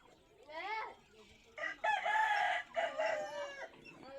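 A fighting rooster crows loudly and close by, a short first call followed by two longer, strained cock-a-doodle-doos in quick succession.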